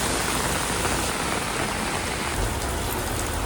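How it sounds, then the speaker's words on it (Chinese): Heavy rain pours down on a street in Seoul, a dense, steady roar of water hitting the ground close by. It stays loud and unbroken, with no voices heard. "非常疯狂的暴雨，我分享下雨的韩国街景。"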